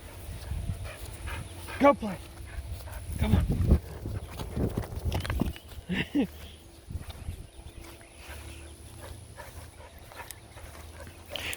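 A dog barks and whimpers a few times amid rustling and footsteps, while a person speaks briefly nearby.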